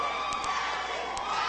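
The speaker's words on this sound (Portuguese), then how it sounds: "a torcida tá grande" Audience at a neighbourhood beauty contest, Garota do Bairro, cheering and shouting together in a continuous bright wash of voices with a few sharp whoops, loud and sustained through the short moment.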